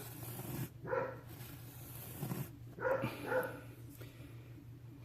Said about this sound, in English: That's my dog barking.